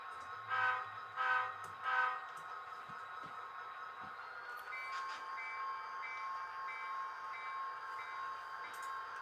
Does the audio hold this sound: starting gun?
no